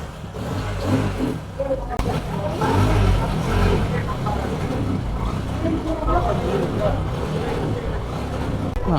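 A motorcycle engine, a bike bought on a small budget, idles and revs with a low rumbling throb that rises and falls steadily, with people talking nearby.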